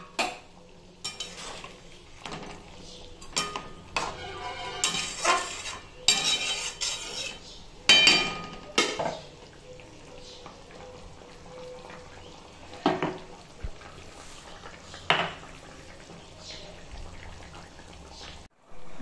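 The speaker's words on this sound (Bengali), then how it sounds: "আমি ভেজে ফেলে দিচ্ছি মাছগুলো" Rohu fish frying in a pan, with intermittent metal clanks and scraping of a spatula against the pan over a soft background sizzle, some bursts louder and closer than others.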